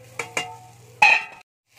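Fried potatoes tipped into bitter gourd in a pan: a few soft clatters and scrapes, then a short loud burst of sizzling that cuts off into silence.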